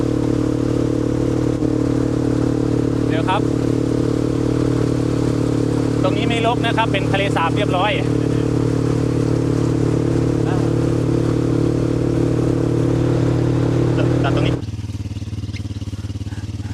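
A motorcycle rides along a flooded canal during the Nong Khai floods, its engine holding a steady, close mid-pitched hum while the rider narrates in Thai; the engine noise drops away near the end.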